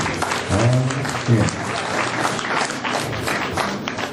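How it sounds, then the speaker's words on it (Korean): An audience at a charity concert applauds in a dense, continuous wash of clapping, with a voice speaking briefly over it near the start. "박수 부탁드리겠습니다"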